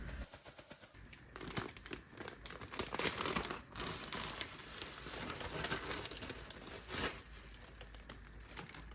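Plastic hygiene bags and a zipper bag crinkling and rustling close by while holding baby formula powder, an irregular stream of crackly handling noise for several seconds with no talk.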